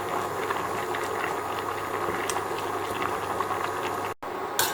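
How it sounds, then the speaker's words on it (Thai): Water bubbles at a rolling boil in a pot, ready for blanching rice noodles, a dense steady seething noise that cuts out briefly near the end. "น้ำเดือดแล้วนะคะ ใส่เส้นหมี่90 กรัมลงไปลวกให้สุก"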